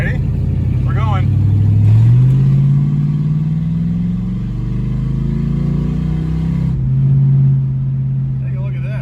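A 1984 El Camino with a swapped 4.8 LS V8 gets on the throttle, the engine rising through a long rev sweep, easing off and then settling into a steady cruise, loud and close with brief speech over it.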